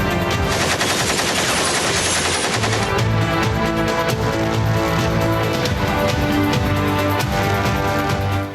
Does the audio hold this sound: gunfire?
yes